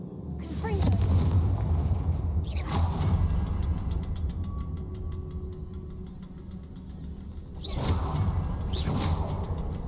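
Fire spell cast in Hogwarts Legacy, with bursts of blast and crackle at the start, near three seconds and again near eight seconds over a continuous rumbling game backdrop.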